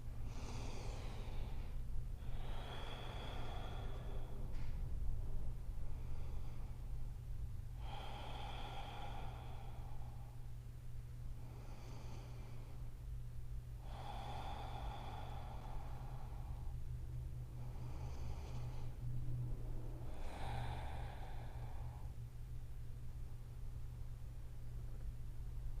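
Slow, deep yoga breaths during a held pose, five audible inhale-exhale cycles spaced evenly a few seconds apart, close and soft over a steady low hum.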